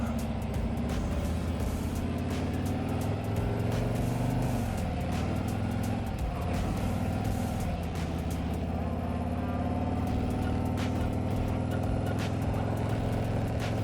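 A steady low engine rumble from a moving 2024 Harley-Davidson Ultra Limited motorcycle with stock exhaust, with wind and road noise riding over it and gear shifts audible partway through; no one talks.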